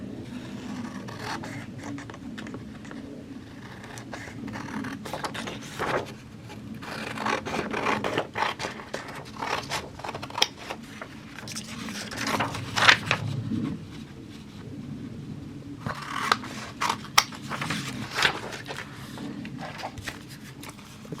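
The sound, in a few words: cutting out paper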